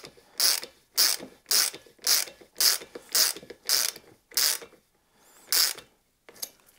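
A ratchet clicks in rapid bursts while a nut is tightened on a Ducati 900 SS engine, about ten close, loud strokes in an even rhythm, followed by a short pause and one final burst.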